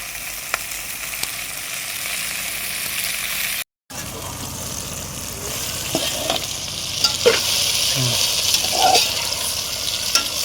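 Okra pieces fry in a hot pan with garlic, a steady close sizzle running throughout with a brief dropout near the start and occasional stirring scrapes and clicks later on; no one speaks.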